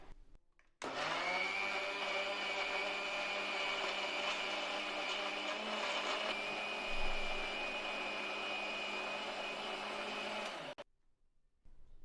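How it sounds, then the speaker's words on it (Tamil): A mixer grinder blends papaya juice with ice and sugar. It gives a loud, steady whirring drone for about ten seconds that starts and stops abruptly, with no talking. "இப்போ மூடிட்டு மிக்சியில் அடித்து எடுத்துக்கலாம்"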